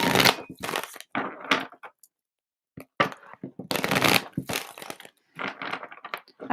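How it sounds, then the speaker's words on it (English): Cards are shuffled in quick riffling bursts separated by short pauses, crisp and close. "I'm going to do some clearing shuffles"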